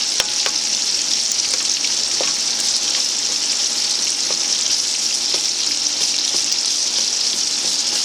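Sausage browning in a pan, with a loud, steady, close sizzle of frying fat broken by occasional light stirring clicks, and no voices.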